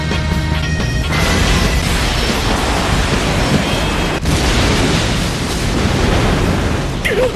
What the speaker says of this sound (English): Decker used explosives in the mine tunnels